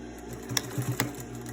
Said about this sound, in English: To secure the pleats a little bit better, we sew another row of stitching